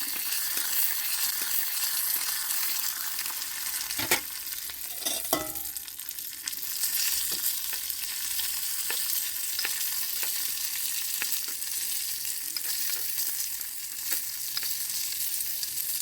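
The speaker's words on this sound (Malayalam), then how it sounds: "നമുക്കിതൊന്ന് വറുത്തെടുക്കാം" Steady sizzling of cashews and raisins frying in hot ghee, a continuous crackling hiss with occasional clinks of a spoon stirring against the pan.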